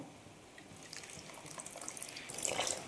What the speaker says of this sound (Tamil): இப்போ இந்த குழம்புக்கு தேவையான அளவுக்கு தண்ணி ஆட் பண்ணிக்கலாம்